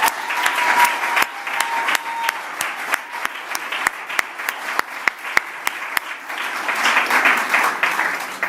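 An audience applauds for hospital staff at a public event, a sustained wash of many hands clapping with a few sharp distinct claps standing out.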